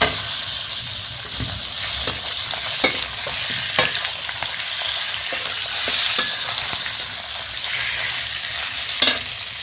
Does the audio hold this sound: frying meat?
yes